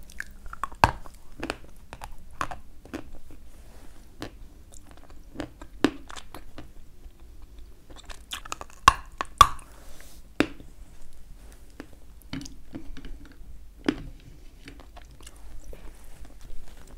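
Close, crisp crunches of Kyrgyz edible chalk being bitten and chewed, sharp isolated cracks spaced a second or two apart over a quiet background, with no talking.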